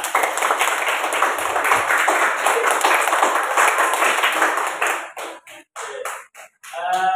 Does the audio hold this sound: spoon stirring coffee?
no